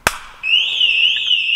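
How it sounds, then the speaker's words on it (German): A Pandora Smart Pro V3 car alarm fitted in a Kia Sorento goes off after a single loud hand clap inside the cabin: one sharp clap, then a steady, loud, warbling siren tone that starts a moment later and continues. "seht ihr, Alarm wird sofort generiert, einfach aufgrund der Akustik."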